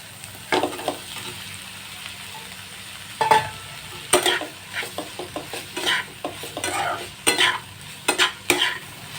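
Chicken stir-fried in a pan for a restaurant-style chicken roll, with scraping and stirring strokes of a utensil against the pan over a low sizzle, irregular and close by, without talking.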